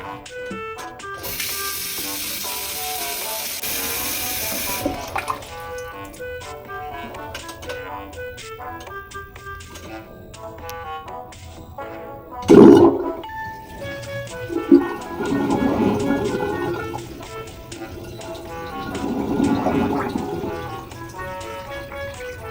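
Water runs into a sink aboard a ship as a newly fitted drain stopper is tested, with mechanical clicks and a sharp clunk before two swells of running water and gurgling.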